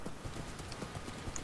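Horse galloping in the Minecraft video game, a steady run of soft clip-clop hoofbeats at a fairly even pace, moderately quiet throughout with no talk.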